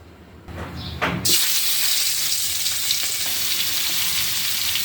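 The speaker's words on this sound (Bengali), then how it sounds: "মাছটা মেখে নিয়েছি এবার ভাজি করে নেব" Spice-coated fish pieces dropped into hot oil in a wok, a short splash and rattle followed by a loud, steady sizzle, with no voices.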